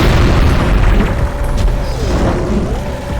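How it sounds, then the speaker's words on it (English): A loud, booming explosion in the Jak and Daxter video game, set in a cave, fills the stretch with a sustained dense rumble and some ringing tones over it. "I am the explosion."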